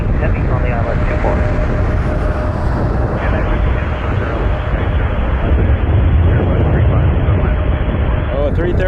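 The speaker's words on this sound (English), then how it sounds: "a 330 coming in 24" An Airbus A330 airliner lands on runway 24 at Toronto Pearson with a loud, steady, rumbling roar, while voices talk over it.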